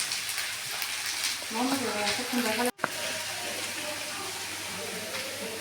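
Spices such as cumin and coriander powder sizzle and fry in a pan while being stirred, a steady crackling hiss with brief scraping stirs, under someone speaking, with one abrupt cut partway through.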